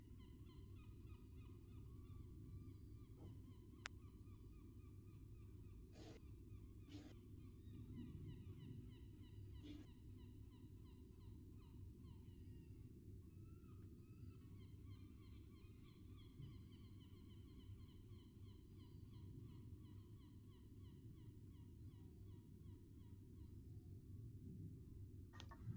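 Seagull calls drift over a steady low wind-like ambient bed in a tabletop game soundscape, with several faint, distant squawks spread across the loop.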